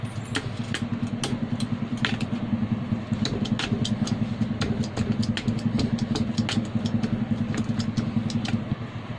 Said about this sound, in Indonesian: Lanjut ini dihaluskan. Di sini saya menggunakan penghalusan seperti ini